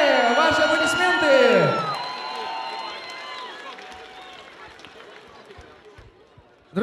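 A Miners' Day 2013 concert crowd cheers and applauds a singer, a broad noisy roar that follows a voice at the start and slowly fades, ending with a sudden loud bump.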